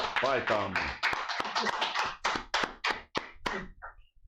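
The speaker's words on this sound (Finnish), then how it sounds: "Annetaan pienet aplodit Hudelle, Hude on voittanut." Small, scattered claps and taps for a contest winner called Hude, sounding close and intermittent as people keep talking over them.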